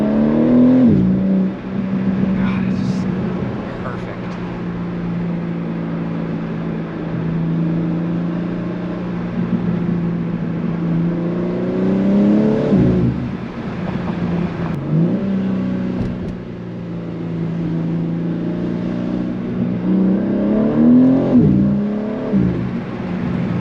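A BMW G80 M3 engine accelerates hard while driving, revving up through several gear changes with rising and falling tones, loud and close throughout with no talk.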